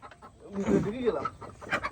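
Native desi chickens in a village clucking softly in a brief, faint burst of short calls, with voices mixed in.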